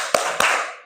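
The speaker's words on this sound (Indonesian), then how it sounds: "anak-anak bertepuk-tepuk lagi ya" A class of second-grade elementary school children clapping their hands, two sharp, close claps in quick succession.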